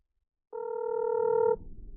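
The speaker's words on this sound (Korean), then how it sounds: "먼저 부산의 민심을 좀 가깝게 느껴보기 위해서 조선일보 부산 주재기자 전화로 연결해 보겠습니다" A telephone ring tone sounds once, a steady electronic tone lasting about a second as a phone call to a newspaper reporter connects, clear and loud, then stops.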